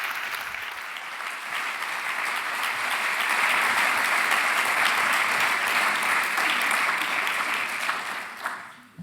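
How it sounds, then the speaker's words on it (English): Sustained applause from a large audience at an inauguration ceremony, swelling and holding steady for several seconds before tapering off near the end. "I get the applause afterwards when I do a good job"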